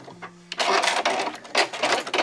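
A sewing machine backstitching a seam on a small curved zippered pouch made from Marimekko fabric scraps; after a brief low hum, close, loud bursts of stitching run in short back-and-forth spurts with small pauses between them.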